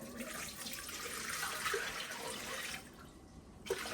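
Water streams steadily into a mixing bowl while batch cooking, a close continuous splashing pour that eases off near the end, followed by a small clink.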